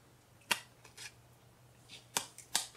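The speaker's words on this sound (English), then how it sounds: "you'll hear the scissors cut through" A few sharp, crisp snips at close range, scissors cutting through stiff, crackly glitter paper, with quiet pauses between the cuts.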